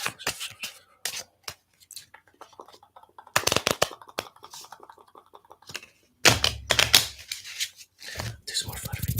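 A handmade major arcana tarot deck is shuffled by hand in short crisp riffling bursts of papery clicks and flutters, separated by quieter gaps with light tapping. A voice talks intermittently between the shuffles.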